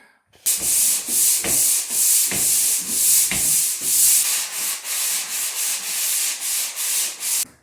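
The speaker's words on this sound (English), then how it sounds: "it's all sanded and dusted up now" Sandpaper scrapes back and forth across a twice-skimmed textured drywall ceiling in steady, loud, rhythmic strokes that continue for the whole stretch, with no talking.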